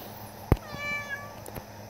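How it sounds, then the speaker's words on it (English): A cat gives a single short meow, close and clear, against a quiet background with a faint tap before and after. "But there's the cat, Simba."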